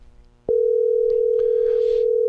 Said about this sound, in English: So the phone is going to ring on the air. Oh, yeah, there it is. It's ringing on the air.